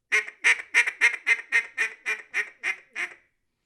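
Duck call blown in a basic quack sequence: about eleven loud, close, nasal quacks in a steady descending cadence, then silence, with no talking.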